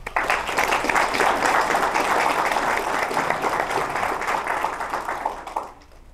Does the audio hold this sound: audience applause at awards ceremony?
yes